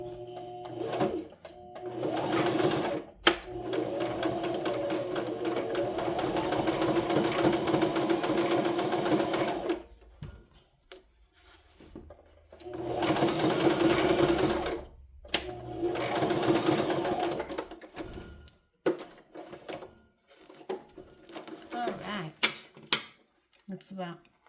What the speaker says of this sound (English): And I'm gonna sew that because I need it sewed too.